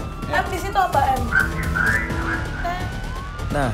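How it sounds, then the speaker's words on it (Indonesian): A siren wails with rising and falling tones inside an escape room puzzle game, mixed with excited voices talking and shouting over it throughout. "Wah, sirinenya berbunyi."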